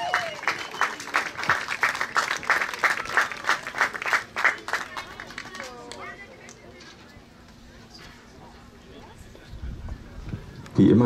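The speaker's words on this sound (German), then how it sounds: "Applaus!" Applause after a pair's final run at the 2017 German Freestyle Frisbee Championship in Karlsruhe, a burst of clapping during the first half that fades into quieter crowd noise.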